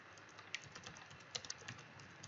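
Typing on a computer keyboard, a quiet run of soft key clicks at an uneven pace, with a few sharper taps standing out against faint background hiss.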